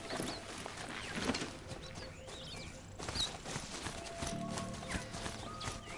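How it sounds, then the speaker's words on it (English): The horse-like Strider machine mount in Horizon Zero Dawn runs with a steady clip-clop of hoofbeats, mixed with mechanical whirs, an occasional whinny-like cry and background birdsong from the game world. "of all the machines you can ride, I think I prefer the Strider, simply because it just looks like a horse"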